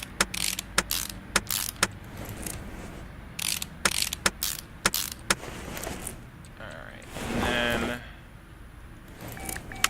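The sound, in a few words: installing a drive shaft in Car Mechanic Simulator 2018 (video game)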